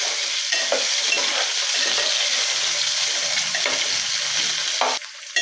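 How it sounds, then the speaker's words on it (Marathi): Onion and mixed vegetables fry in oil for hotel-style South Indian sambar, a steady bright sizzle running close and loud for about five seconds before dropping off, with faint stirring scrapes underneath. "आता कांदा घालूया आणि कांदा आणि ह्या सगळ्या भाज्या आपल्याला आत्ताच घालायच्या आणि ह्या थोड्याशा फ्राय करून घ्यायच्या"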